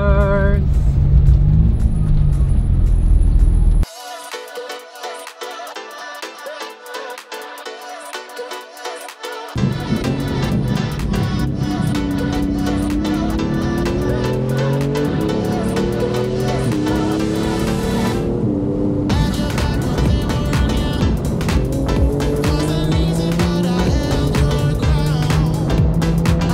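Porsche GT2 RS running on the Batangas Race Circuit, its engine note rising and falling through gear changes, loud and continuous after a quieter stretch, with a brief drop near the end.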